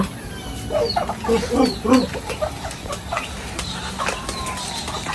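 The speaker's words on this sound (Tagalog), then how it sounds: "magpapakain ng manok" Several chickens cluck and murmur close by in short, uneven bursts, with occasional higher calls and some faint background activity.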